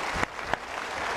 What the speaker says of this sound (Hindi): जोरदार तालियां एक बार उनके लिए भी